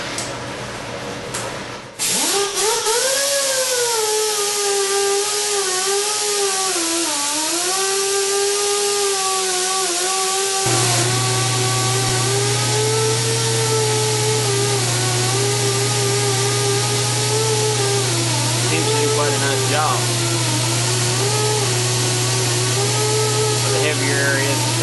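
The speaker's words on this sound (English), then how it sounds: "wire wheels are not designed to spin that fast" A wire wheel brush spins at high speed stripping paint and rust on a sandrail, a loud, steady whine with a shifting pitch and harsh abrasive hiss that runs almost continuously after a brief start, with a voice heard briefly over it.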